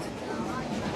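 A passenger train rides the rails in Cuba, giving a steady, dense rumble and rattle throughout, with voices talking over it.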